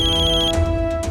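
A phone ringtone chirps loudly in a repeating electronic pattern over a sustained musical tone, a short close burst with no talk.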